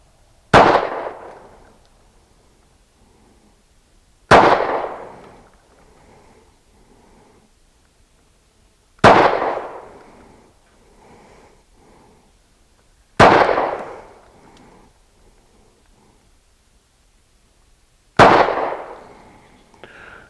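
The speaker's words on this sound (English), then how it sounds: "So again, 5 rounds, 21 feet with the new Ruger" Five sharp pistol shots ring out from a Ruger LC9 fired at an outdoor range target 21 feet away. Each crack is loud and close and is followed by a short fading echo, with evenly spaced pauses of several seconds between shots.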